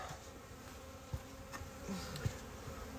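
Bees buzz at a hive during a February inspection, a faint, steady hum with a few closer fly-by buzzes and soft handling knocks.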